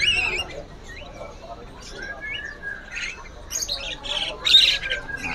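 Canaries (F1 kenari) chirp and squawk at a bird market kiosk, bright scattered calls rising and falling over a busy background murmur, louder near the end.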